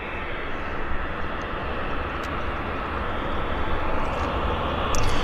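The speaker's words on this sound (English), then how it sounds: "Got another aircraft on approach" At Vancouver International Airport, a plane on approach makes a steady, loud broadband roar of jet engine and rushing air that holds constant throughout the few seconds.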